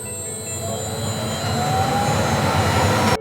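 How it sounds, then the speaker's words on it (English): Harvey Gyro dust collector running close by, a loud steady roar of rushing air with a whining hum, continuous and unbroken until it cuts off. "I'm going to go ahead and turn on the dust collector"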